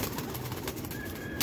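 About forty pigeons being carried in transport to Pindi give off soft cooing and rustling, faint and brief against a broad background hiss, with no voices over it.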